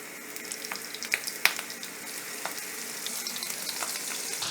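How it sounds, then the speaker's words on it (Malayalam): Prawns dropped one by one into hot oil in a pan for chilli prawns, a bright continuous sizzle with a few sharp splashes and crackles early on, close and steady. "ഞാൻ പാനിൽ എണ്ണ ചൂടാക്കി വെച്ചിട്ടുണ്ട്. ഇത് ഓരോന്നായിട്ട് ഇങ്ങനെ ഫ്രൈ ആക്കി എടുക്കുക."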